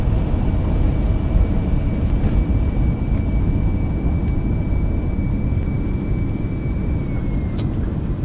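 An MD-11 jet in the X-Plane 11 flight simulator roars under full reverse thrust after landing, a steady loud broadband rush with a faint high whine that drops slightly near the end, no voices.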